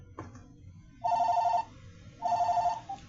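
A phone rings with a distinctive custom ringtone: two bursts of bright warbling electronic trills separated by a short pause, fairly loud and close, with faint background noise.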